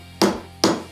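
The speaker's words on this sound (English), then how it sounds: "Give it a little tap to start setting it." Two sharp hammer taps land about half a second apart, setting a threaded insert into a hole drilled in store-bought lumber, each strike crisp and close with a short ringing decay.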